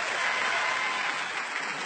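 Steady applause from a theatre audience at an Incroyable Talent show for a performer, a thick, even patter of many hands clapping without speech.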